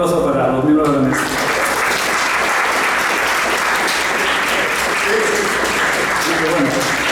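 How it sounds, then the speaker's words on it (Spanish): Sustained audience applause fills a literature congress hall, steady and dense throughout, with a brief stretch of speech-like sound at the very start before the clapping takes over. "pido un aplauso para los miembros de la mesa"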